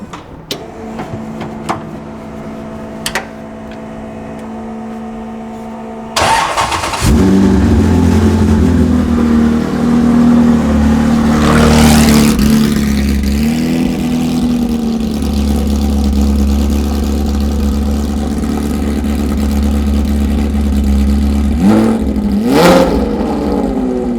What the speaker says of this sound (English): So this really gives it that crazy kind of race car sound